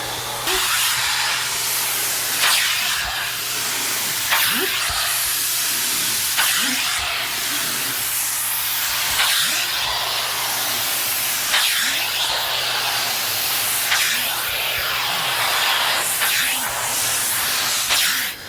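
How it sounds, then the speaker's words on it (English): A long, continuous hiss of aerosol interior cleaner sprayed onto a car interior surface, loud and close, with slight pulses in intensity throughout. "I'm just gonna spray on the surface."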